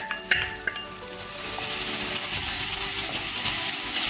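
Tomatoes sautéing in a pan for chilli crab, a steady loud sizzle and crackle with a few clinks of a utensil near the start, no talking.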